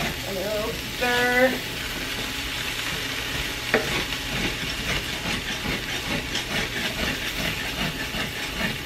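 Potatoes being stirred in a hot frying pan, with a continuous sizzle and hiss under scraping spoon strokes and a few sharp clinks against the pan.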